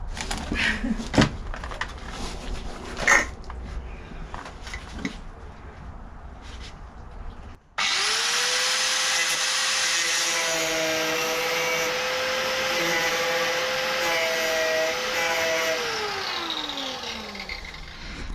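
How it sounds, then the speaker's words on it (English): An angle grinder cuts rusty sheet metal on the front wing of a Rover P6, starting abruptly after scattered handling knocks, then whining loud and steady for about ten seconds before its pitch drops as it winds down. "Now we just need to not get the grinder caught up in the sheet."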